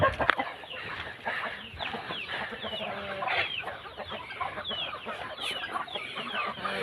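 A group of farm chickens clucks and murmurs close by, overlapping soft calls rising and falling at a moderate level, with no voices.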